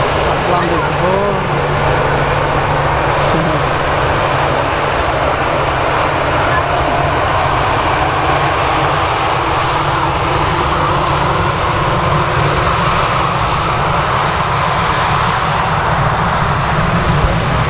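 Aircraft engine roaring at Manchester Airport visitor park, a loud sustained jet rumble and broadband roar filling the whole span, with outdoor ambience and people chatting underneath.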